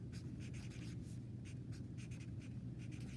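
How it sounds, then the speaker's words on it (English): Pen scratching across paper during seed classification, a steady close scribbling with short bursts and pauses, alone without talk. "I'm just going to write all the things."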